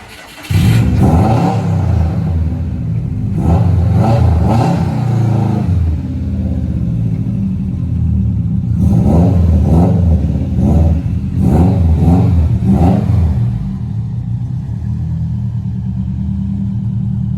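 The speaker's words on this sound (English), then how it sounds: "I'm going to go out in this Subaru, have a blast" A Subaru engine revs hard and close in several bursts, climbing and dropping, then settles into a steady rumble as the car pulls away, with no talking.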